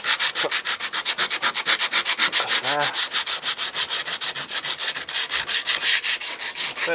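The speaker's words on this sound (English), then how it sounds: "just that piece of old rolled up belt sanding bit" Rapid rhythmic rasping strokes of hand sanding with a piece of old rolled-up sanding belt on a boat, close and loud, a steady back-and-forth scrub against wood with no talking.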